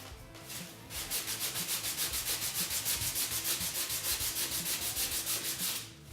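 Rhythmic back-and-forth sanding of wooden pieces for a homemade fake-window lightbox, close and steady strokes in an even pulse for several seconds, starting and stopping abruptly.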